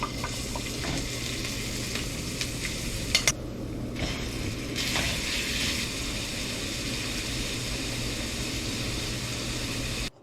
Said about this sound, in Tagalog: Umpisa na natin pagluto yung pansit